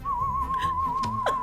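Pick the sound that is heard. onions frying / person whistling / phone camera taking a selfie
person whistling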